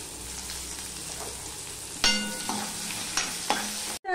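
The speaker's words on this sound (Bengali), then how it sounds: "এবার এর মধ্যে আমি পেঁয়াজটা দিয়ে দিচ্ছি" Onion dropped into hot oil with tempered whole spices for a chickpea and egg curry, a loud sizzle bursting in at once, then stirring scrapes and renewed crackles as the pieces are tossed.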